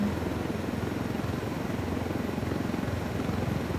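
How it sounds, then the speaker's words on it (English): A video-game helicopter being hacked gives off a steady, continuous rotor and engine drone, loud and even throughout with no talk over it. "Just as long as you don't blow the helicopter up as you hack it."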